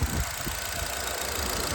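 A 2010 Nissan Qashqai petrol engine idles quietly with a steady low hum and faint even pulsing, close by and with no voices.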